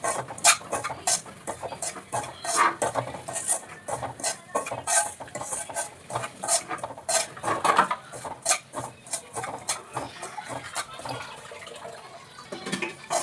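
Semolina (rava) roasting in ghee in a pan, stirred steadily with a metal spoon that scrapes and clinks against the pan in quick, uneven taps, close and fairly loud, with no talking.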